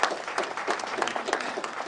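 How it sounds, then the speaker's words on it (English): An audience applauds at the live announcement of the 2021 KCPE national exam results, with sustained, dense clapping filling the room, loud and close, with no pause. "I request all of us here to put our hands together and just give a clap"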